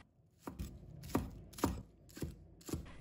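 A knife chops scallion whites into small pieces on a cutting board: about six distinct close, crisp strikes at an uneven pace against a quiet room.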